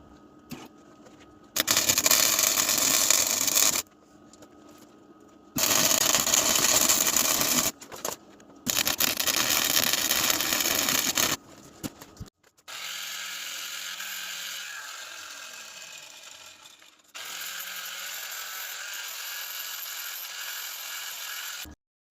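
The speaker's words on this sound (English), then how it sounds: "So I've clamped the bracket in the right place to weld on, so let's do that." Welding a bracket onto a Land Rover Defender seat rail: loud bursts of harsh crackling arc, several seconds each with pauses between, then a long steadier hiss-like run, close up and with no speech.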